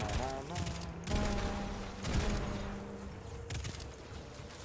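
Explosions and gunfire in Destiny 2, a muffled blast among scattered shots and rumbling impacts, with speech mixed in throughout.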